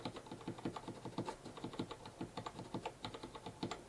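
Keys clack in a fast, steady rhythm on a SteelSeries Apex M800 mechanical keyboard. The strokes are close and quiet, with dense, even clicks running throughout and no voices.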